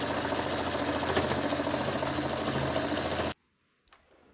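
A sewing machine stitching a wig cap runs in a loud, steady, rapid mechanical whir close by, then stops abruptly, leaving near silence with a faint click.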